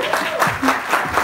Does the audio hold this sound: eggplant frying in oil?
no